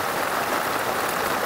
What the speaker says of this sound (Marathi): आता पाऊस ना वाढलेला आहे बघा